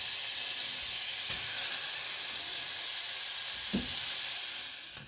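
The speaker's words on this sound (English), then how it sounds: "Let our butter melt." Butter, about three fairly large tablespoons, melts in a saucepan over medium-low heat with a steady soft sizzle and hiss, close and fairly quiet, with a couple of faint stirring knocks.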